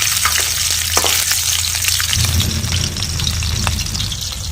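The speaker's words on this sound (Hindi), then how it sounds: "तेल भी हमारा गर्म हो चुका है और हम डालने जा रहे हैं लहसुन। तो लहसुन को डाल देते हैं" Garlic and chopped green chillies hit hot oil with a loud crackling sizzle, sharp pops early on and a lower, fuller frying roar after stirring around the midpoint; nobody speaks.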